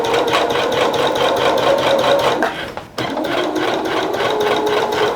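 A sewing machine stitches a rag quilt in a loud, fast, steady run near by, pausing briefly as the needle drops for a back stitch, then starting up again.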